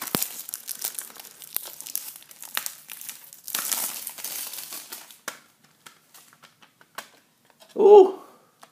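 Plastic shrink wrap is crinkled and torn off the case of the video game Insecticide in bursts of close, crisp rustling. The crackling tapers into sparse ticks, then a brief voice is heard.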